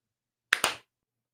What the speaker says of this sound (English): I think we deserve a team clap